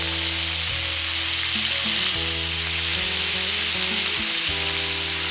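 Chicken skewers fry in a pan with a loud, constant, close sizzling hiss, and a tonal background runs underneath it throughout.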